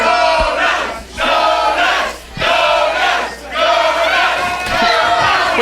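A wrestling crowd at an SSW Championship event chants a cheer loudly in rhythmic waves, with brief dips between repeated phrases and a packed-arena roar throughout.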